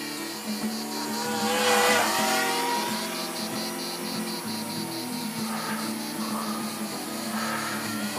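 A Cheerson CX-91B quadcopter drone flies nearby with a steady high-pitched motor whine and a rhythmic pulsing buzz, swelling briefly louder as it passes close, then holding an even drone with no talk.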